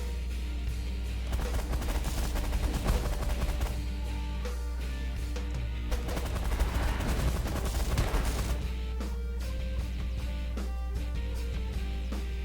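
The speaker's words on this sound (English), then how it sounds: "now we can focus fire on the emergency response hangar without any fleets to interfere" Steady stream of rapid weapons fire during a space battle at an emergency response hangar in the strategy game The Last Federation, fast repeated crackling shots over a constant low hum, moderately loud and sustained throughout.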